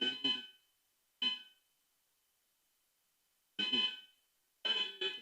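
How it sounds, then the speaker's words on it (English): A building alarm sounds in four separate bursts with pauses of silence between them, loud and close, in an otherwise quiet room. "So just wait for the alarm to finish."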